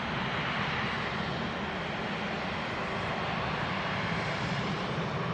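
A Jet2 Airbus A330-300 airliner climbing steeply after takeoff from Manchester Airport produces a steady, broad engine roar that holds constant and loud from a distance throughout, with no voices.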